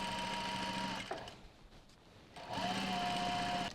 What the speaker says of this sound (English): I'm just going to sew it on.